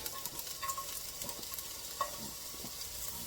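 Quiet, steady sizzling of garlic in a stir fry, with faint crackles and a few small pops scattered throughout.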